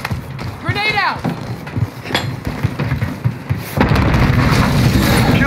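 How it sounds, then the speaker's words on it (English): A frag grenade goes off in Call of Duty: Modern Warfare (2019), a loud, close boom late in the moment that sustains into rumbling noise, preceded by chaotic gunfire, footsteps and a voice amid busy game action. "Grenade out."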